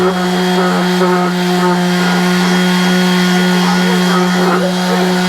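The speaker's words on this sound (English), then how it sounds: "All we're doing, sanding it down." A power sander grinding down a surface, a loud, steady droning whine with a strong hum that holds throughout without pause.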